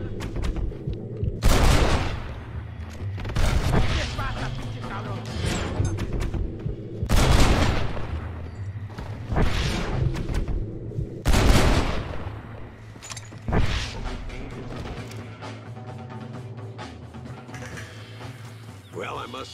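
Gunshots in the Western video game Red Dead Redemption, loud booming reports spaced every couple of seconds over a steady game soundtrack, with voices speaking in between.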